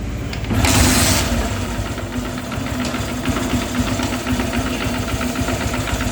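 A Honda motorcycle engine with a newly fitted timing chain tensioner starts with a brief burst of noise, then runs at a steady, close idle with a rapid even beat.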